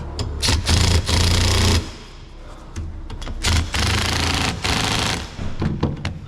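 An impact gun hammers the top mount bolts on a Vauxhall Corsa D in loud, close rattling bursts, several short rapid trains separated by brief pauses.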